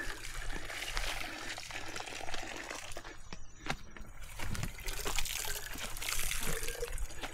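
Steady rushing, splashing spring water pours strongly and continuously nearby on Mt. Kasahingan, a loud outdoor gush with no voices over it.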